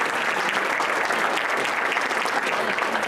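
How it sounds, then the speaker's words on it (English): Wedding reception guests applaud the proud father of the bride after the toasts, a full, continuous crowd of clapping at close range that holds level throughout without speech. "have it one more time, a round of applause there, the proud father of our bride"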